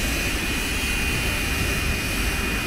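A jet engine roars steadily with a constant broadband rush and a thin high whine running throughout, loud and unbroken.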